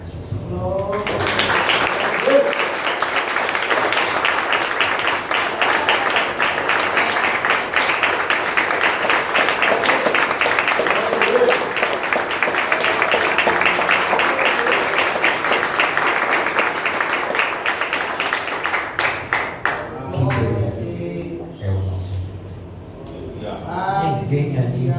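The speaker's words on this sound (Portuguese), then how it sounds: "Esse psicólogo aí, chamado Jesus de Nazaré, merece agora uma salva de palmas" A congress audience applauds for a long stretch, a dense, steady wash of many hands clapping that fades out as a speaking voice returns near the end.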